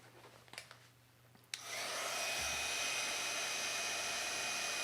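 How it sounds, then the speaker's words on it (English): A heat gun switches on with a sharp click and then roars as a steady, close blower while it sets glittery embossing powder, after a few quiet handling taps. "So let's just heat emboss this and set it."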